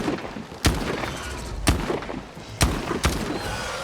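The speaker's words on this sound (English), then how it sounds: "Let's just reload our shotgun here." Shotgun blasts in a video game, four sharp loud reports spaced roughly a second apart over a steady background hum, with no talking.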